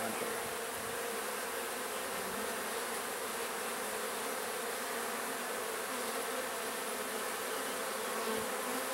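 Honey bees hum in a dense, constant buzz during a hive inspection, a close and steady drone with no break and no speech.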